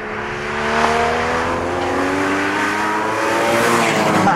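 Porsche Cayman GTS engine revving steadily with rising and falling tones through gear changes, loud and close as the car drives.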